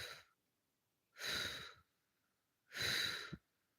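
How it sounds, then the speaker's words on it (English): Two long, deep exhales and a short opening one form a slow breathing exercise. Each breath is a close, breathy rush lasting about half a second to a second, with quiet pauses between. "Breathe in a big breath. Now breathe it out in 4."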